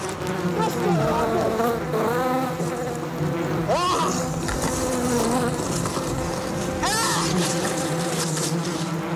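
A dense, steady buzzing of a swarm of killer bees fills the air continuously, with occasional voices calling out beneath the swarm.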